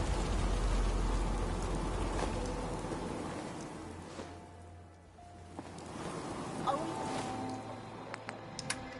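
Steady rain pouring in the game Fallout 4, a dense continuous hiss of drops on surfaces with a low rumble, a brief lull midway, and scattered sharper drips and game sounds on top.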